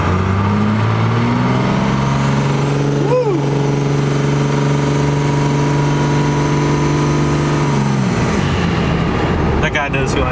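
A third-generation truck passes close by, its engine note rising and then dropping with a sweeping pitch shift as it goes past, loud and continuous against the surrounding road noise.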